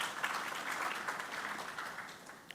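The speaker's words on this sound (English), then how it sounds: "please give a round of applause to Rachel" Audience applause for a speaker named Rachel at the SANParks Vision 2040 Indaba 2025, a steady wash of clapping from a crowd that holds evenly for a couple of seconds before tapering at the end.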